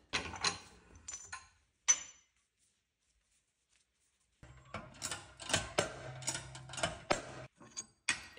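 Bearings for a Vermeer S800TX mini skid steer idler shaft are pressed on in a bench vise, giving close clicking, ratcheting and metal knocks around a silent gap.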